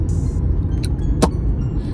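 Inside a car driving down a long road, a steady low rumble of engine and tire noise continues throughout, with a couple of faint brief clicks.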